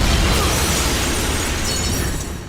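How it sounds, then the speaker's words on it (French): A loud, dense explosion sound effect from Homeland booms with a broad rumbling roar that holds for a couple of seconds before tailing off. "j'ai pris encore une autre explosion là que j'ai volée à Homeland"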